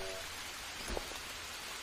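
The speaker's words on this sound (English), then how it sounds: "It is currently raining, so we don't have to." Steady rain in the survival video game Green Hell, falling as a constant dense hiss with scattered drops and a faint soft knock near the middle, with no talking over it.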